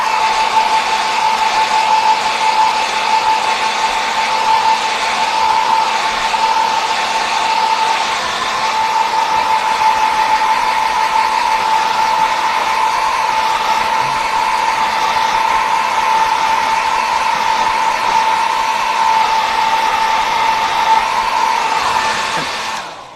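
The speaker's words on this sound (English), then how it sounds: "my hair dryer is kind of hot and it will warp my self-healing mat" A hair dryer blows steadily and loudly for the whole stretch, a constant whooshing roar with a high motor whine, then cuts off at the end.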